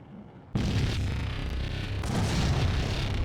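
A grenade goes off in the action game Max Payne: a sudden loud boom breaks a quiet moment and rolls into a sustained, rumbling roar that stays heavy for several seconds.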